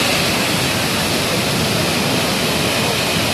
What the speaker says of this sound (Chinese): 这是落基山脉最大的一个瀑布